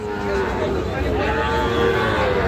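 Young bulls and heifer calves at a rural cattle market in Parbatipur, Dinajpur, with a steady crowd murmur and people talking throughout; the animal sounds are indistinct within the busy market din.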